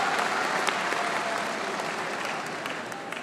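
An audience applauds in a sustained, dense burst of clapping that fades slightly as it goes on, heard on its own.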